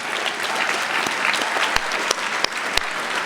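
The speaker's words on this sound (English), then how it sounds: "give an applause to all of the parents and" Audience applause fills a school assembly hall, a steady dense wash of clapping from a large crowd, with a few sharper individual claps standing out near the end.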